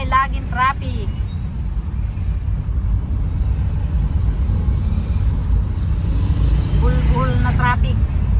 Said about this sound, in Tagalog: laging traffic